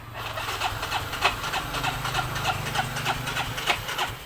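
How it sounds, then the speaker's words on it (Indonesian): A Yamaha Mio J Soul GT scooter struggles on its electric starter, giving a steady, even run of rhythmic cranking pulses under a continuous mechanical whir, close and fairly loud, with no talk. "Tapi giliran pakai starter elektriknya itu susah seperti ini ya guys."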